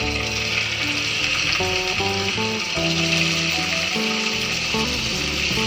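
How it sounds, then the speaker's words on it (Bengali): Paneer pieces frying in hot oil over medium to high flame, a steady bright sizzle with scraping from a spatula or pan throughout, and no talking. "তেলটা গরম হয়ে গেছে, এবার একে একে পনিরগুলো ভেজে নিচ্ছি"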